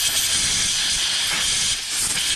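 Compressed air blasts out the parts of a motorcycle rear brake pedal assembly, a loud, continuous close-up hiss that swells slightly and holds steady throughout.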